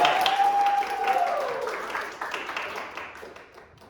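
A theatre audience at a university drama production applauds, a burst of clapping that starts strong under a brief whistle-like tone and gradually fades over a few seconds.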